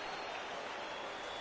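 Broad, steady crowd roar from a baseball stadium in MLB The Show 16 as fans rise for a full count, a continuous wash of cheering with no distinct claps or voices.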